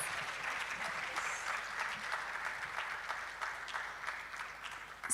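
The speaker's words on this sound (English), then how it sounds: "Shall we give them another round of applause?" Sustained audience applause for a panel at a women-in-STEM conference opening session, a steady dense patter of many hands clapping at moderate level for several seconds, with no speech over it.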